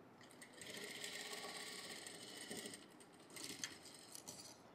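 A sewing machine runs steadily, stitching piping onto a boat neck blouse with its lining; the whirring motor hums close and continuous, pausing briefly before resuming in short bursts.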